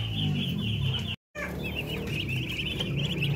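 Many hungry ducklings peep and chirp continuously in high, shrill calls, a busy flock close by on a farm with a short dropout partway through.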